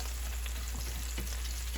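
Old bread toasting in a pan for pasta puttanesca, a steady close sizzle and crackle of frying with a few soft stirring scrapes.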